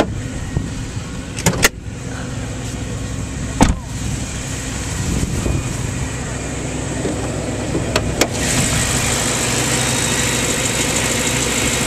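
A 2008 BMW M3 Coupe engine idling steadily with a smooth, continuous hum, nearby and moderately loud, with a few sharp clicks and knocks from the car body, no talking.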